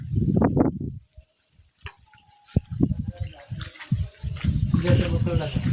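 Water splashes and pours across a floor during cleaning of a pavilion, with bursts of sloshing and spatter coming and going close by while people talk throughout.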